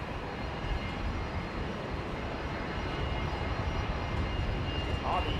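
An Air Niugini Boeing 737 in special livery taxis out at Brisbane Airport as a steady, moderate jet engine roar from a distance, unbroken throughout.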